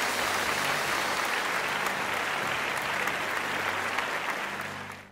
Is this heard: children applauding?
yes